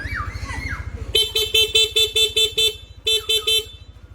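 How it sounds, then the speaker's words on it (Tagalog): A Corsa dual horn fitted to a Yamaha Aerox V2.1 scooter blares in a rapid series of short honks, then a brief second burst, loud and close over the engine's low idle. "Corsa po yung pinabil ni Sir na busina. Pabusina nga Sir."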